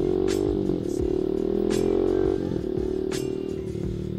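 Yamaha Mexy motorcycle with a stock factory 150cc engine revving up, its drone rising in pitch, easing off, then climbing again, with a few clattering knocks over the engine note.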